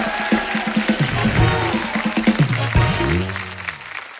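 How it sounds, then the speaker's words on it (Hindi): Studio audience applause on a comedy talk show rolls beneath a strong tonal musical layer, the clapping a continuous bright texture with steady background music and swooping tones over it. "आप सभी के लिए एक बार जोरदार तालियां हो जाए भाई।"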